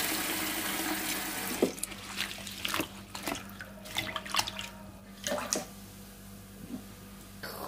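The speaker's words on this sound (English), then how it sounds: "I'm using sink water for more noodles." Water runs from a kitchen sink tap in uneven bursts, with splashes and clinks of a pot or bowl being filled, fairly quiet and close, over a low background hum.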